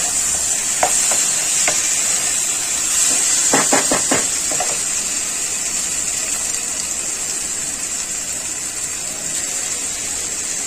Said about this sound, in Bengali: এই আলু আর বাদাম দিয়ে পেঁয়াজের সাথে একটু কষাবো, ভালো করে কষিয়ে নেব।